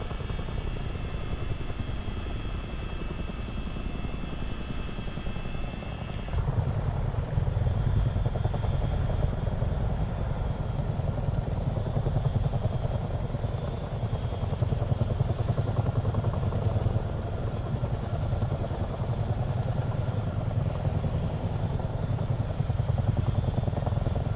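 A simulated CH-47D Chinook helicopter cruising at speed over flat terrain gives a constant engine and rotor roar that grows noticeably heavier and lower a few seconds in, then holds steady without any talking.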